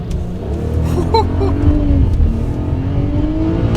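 A BMW 128i engine accelerates steadily, its pitch sweeping upward as it pulls hard, loud and close with a continuous roar.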